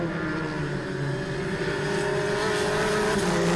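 Volkswagen Polo race cars circuit racing in a one-make championship, engines droning steadily and loudly throughout as the pack runs together, no talk over it.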